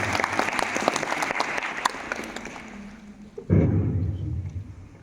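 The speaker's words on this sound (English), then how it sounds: "Everybody, give a big round of applause for Patitapaban sir." A school audience at a Netaji Jayanti event gives loud, thick applause for about three seconds. It then thins out as a voice begins speaking over a closer, boomier room sound.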